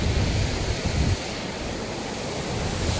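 Sea waves wash steadily onto Guhagar Beach in the Konkan region at sunset, a constant broad rush with a slight surge at the start, heard alone without talk.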